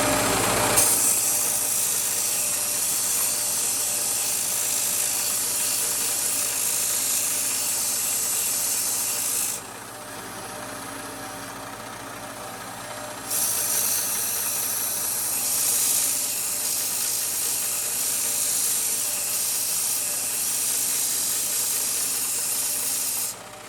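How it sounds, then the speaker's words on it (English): A belt sander grinds a taper on a drill rod insertion tool, with water nearby for cooling. The sanding rasp runs steadily and loud, drops away briefly in the middle, then resumes at the same level. "Tapered the insertion tool on the sanding belt"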